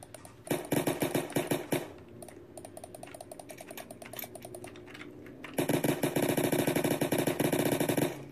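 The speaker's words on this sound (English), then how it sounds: "Gunshots!" Bursts of rapid, clattering gunfire in a Roblox game, in quick rhythmic volleys, pausing briefly before another loud stretch of repeated shots.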